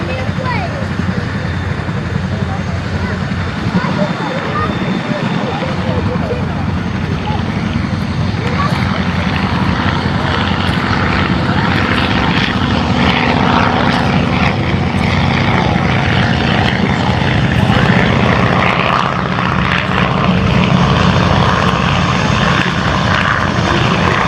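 A 1943 Avro Anson Mk.I twin-engine propeller aircraft flies at the RAF Cosford air show, with a loud, continuous droning engine and propeller roar that holds steady across the whole stretch.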